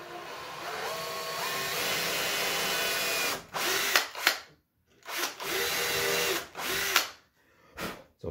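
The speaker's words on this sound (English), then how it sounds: "stop every little bit and let your drill naturally clean the hole out" A power drill whines steadily as it bores into a wooden door for a full mortise lock, then runs in several short stop-and-start bursts separated by brief silences.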